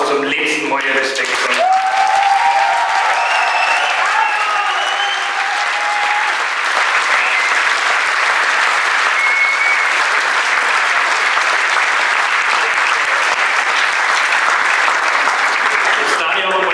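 Big crowd applause at a Bavarian Starkbierfest beer-hall gathering in Feldkirchen-Westerham, honouring the monk after a political Lenten sermon; a sustained, loud roar of clapping fills the hall, with a voice over it at the start.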